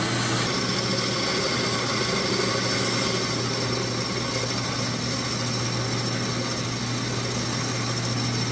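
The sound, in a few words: drill boring a hole without a pilot hole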